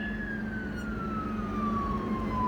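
An ambulance on a road toward Cikampek sounds its siren, a single steady wailing tone slowly falling in pitch over low road noise, near and loud.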